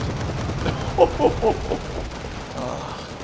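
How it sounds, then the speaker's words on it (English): B5 bomb explosion in the Wargame Red Dragon strategy video game, a cluster of muffled booms and blasts in quick succession at moderate distance, followed by a fading rumble. "We've got to zoom in on the B5 bomb, as it is quite a big bloody explosion"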